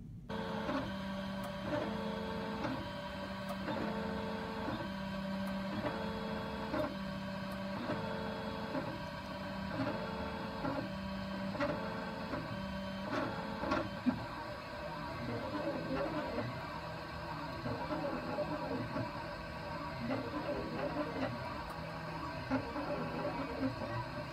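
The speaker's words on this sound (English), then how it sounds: "I'm going to include a video of myself printing the hamburger right here." A 3D printer prints a hamburger model with a steady mechanical whir, its stepper motors buzzing in repeating tonal patterns and brief rhythmic shifts, moderately quiet and continuous with no voices.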